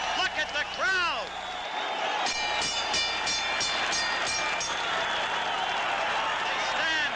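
Crowd at a 1979 boxing match, Marvin Hagler versus Vito Antuofermo, roaring and cheering on its feet in a big arena, a dense steady wall of noise with a commentator talking over it.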